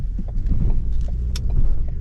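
Road noise from a 2016 Ford Focus SE Sport driving over bumps in the rain: steady low rumble with occasional soft thumps and clunks, heard from inside the car, with no talking.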